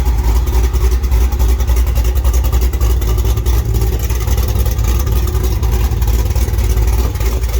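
Truck engine running through turned-down mufflers, a loud, steady, deep rumbling drone that holds a constant level for the whole stretch with no talking.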